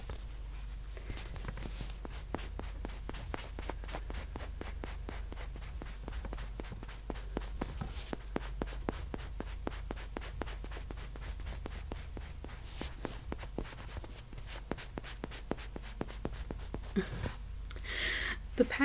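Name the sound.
pen scratching on a squishy toy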